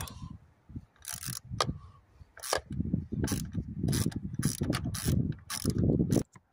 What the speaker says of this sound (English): So for the air filter, you have three T20 Torx here. just get those open up.